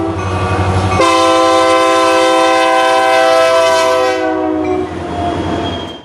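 Canadian Pacific SD90MAC locomotives in Union Pacific yellow with CP patches pass close by under a low engine rumble, sounding a loud multi-chime horn blast that holds for about four seconds and then cuts off.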